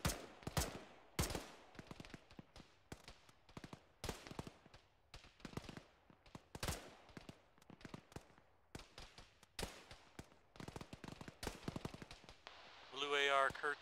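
Gunfire in the Arma military simulation game, with scattered sharp single shots and short bursts at varying distances, some loud and near, others faint, sounding irregularly throughout, with a rapid rattling burst at the very end.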